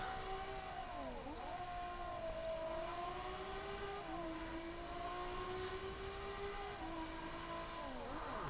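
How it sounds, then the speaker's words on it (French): A car engine in a video game presentation rises and falls through gear changes, a smooth revving drone that climbs and drops in repeated sweeps, fairly quiet and without talk. "là j'apprécie énormément le son du moteur"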